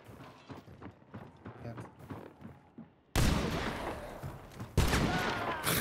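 Gunshots and mechanical clatter in the video game Hunt: Showdown, quieter rattling shots at first, then two sudden loud bursts of gunfire with harsh ringing noise.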